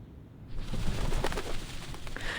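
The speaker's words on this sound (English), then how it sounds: "The sound of flapping wings fills the air." Doves at the Whitestone House in the game Reverse: 1999 take off together, a dense burst of wing flapping that swells after a quiet start and stays loud and close, with soft cooing mixed in.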